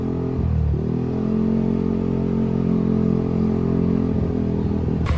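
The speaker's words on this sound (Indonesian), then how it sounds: "sekarang kita lagi bawa jalan-jalan di motor ya" A Yamaha NMAX scooter with a bored-up engine is ridden, giving a steady, close engine drone with slight rises in revs and a light mechanical clatter throughout.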